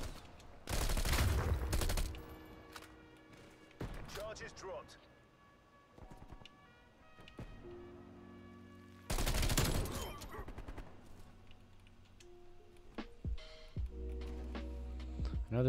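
Bursts of Bullfrog SMG fire in a Call of Duty: Cold War Search and Destroy match, loud rapid volleys near the start and again mid-clip, with game sounds and talk running between them.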